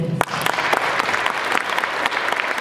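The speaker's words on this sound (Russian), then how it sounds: "Поэтому все вот ваши аплодисменты много-много раз для нее сегодня" Audience applause in a concert hall at a creative evening, dense, loud clapping from many hands, close and sustained throughout.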